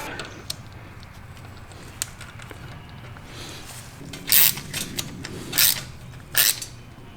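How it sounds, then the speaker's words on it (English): Socket wrench tightening the oil drain plug on a Cub Cadet Ultima ZTS1 mower with a Kohler engine, faint ratcheting clicks early, then several louder scraping bursts of the ratchet pawl, close by. "will allow you to use a socket to remove that and tighten it"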